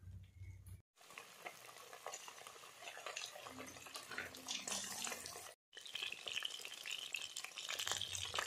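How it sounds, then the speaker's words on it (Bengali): Chicken pakoras fry crisply in hot oil, a steady crackling sizzle with stirring throughout, broken by two brief silent cuts. "এই দেখুন আমার পুরো লাল লাল করে ভাজা হয়ে গেছে, দেখেছেন কি শব্দ হচ্ছে, কতটা মচমচে হয়েছে শব্দতেই বুঝতে পারছেন।"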